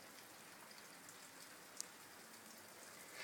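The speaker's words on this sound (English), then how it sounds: "It's raining a lot." Heavy rain pours down steadily in cold spring weather, a dense, even hiss of drops filling the whole stretch with one sharper drip standing out near the middle and no voices over it.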